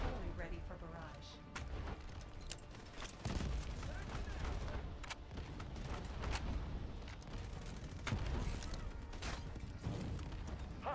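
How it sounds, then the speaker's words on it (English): Artillery barrage in the video game Delta Force, a dense continuous roar of overlapping blasts and gunfire with repeated sharp booms throughout, loud and sustained under scattered voice chatter. "Artillery ready for barrage."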